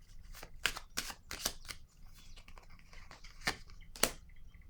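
Playing cards laid down one at a time during a tarot-style reading, a series of soft, close flicks and slaps, about a dozen crisp strikes scattered irregularly over a quiet background.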